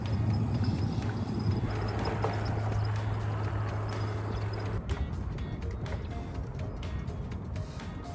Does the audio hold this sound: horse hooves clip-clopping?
yes